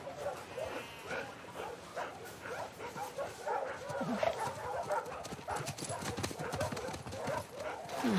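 A dog in The Last of Us Part II, with clip-clopping horse hooves and occasional barks and yips. Someone speaks to the dog over steady outdoor game ambience.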